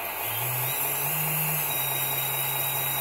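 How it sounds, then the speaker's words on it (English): Hydraulic pump running on a radio-controlled model excavator, a steady, fairly quiet mechanical whine with a low hum that shifts pitch briefly as the revs change, then holds an even drone. "So that's the pump running up there"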